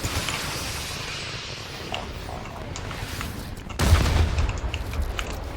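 Gunfire and rocket launcher blasts in Fortnite, a scatter of faint distant shots under a mostly quiet stretch, then a louder burst of booming fire near the end.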